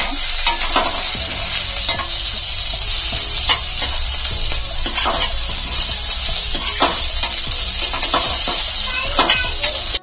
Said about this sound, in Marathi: कांद्याला आपण छान भाजून घेऊया। लाल होईपर्यंत आपण ते आता भाजून घेऊयात।